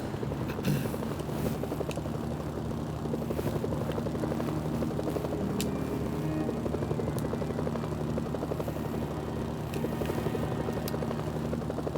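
Helicopter in the Mercenaries: Playground of Destruction video game, a continuous rotor thrum with a fast, steady chopping pulse that holds at a moderate level, broken by a few sharp clicks and impacts and no voices.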